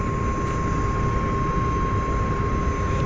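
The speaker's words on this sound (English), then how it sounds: "I feel I'm hearing something like combustion. Maybe it's another aircraft turning on" Aircraft engine spooling up at Glasgow Airport on an airline launch day, a steady broadband roar with a sustained whine, fairly loud and continuous throughout, with no talk over it.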